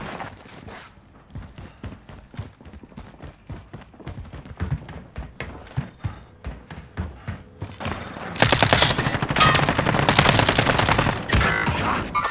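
Gunfire from Call of Duty Warzone played on Xbox Series X, with rapid bursts of automatic shots and footsteps, growing denser and louder in the second half; no voices.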